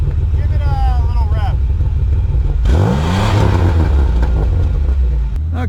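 A car engine putting out only 130 horsepower and 170 pound-feet of torque revs up loudly, its pitch sweeping upward over a steady rumble, with a person talking throughout.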